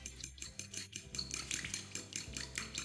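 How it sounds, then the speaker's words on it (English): A whisk clinks and scrapes quickly against a bowl while mixing a salad dressing of vinegar, salt and pepper, a steady rapid rhythmic rattle, close but fairly quiet, with no talking. "Let's whisk it all together."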